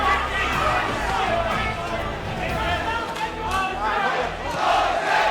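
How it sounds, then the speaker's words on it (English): A boxing crowd fills the arena with a loud, sustained roar and rhythmic chanting of a fighter's name, steady throughout with no pauses. "Crowd taking up a chant of Jose."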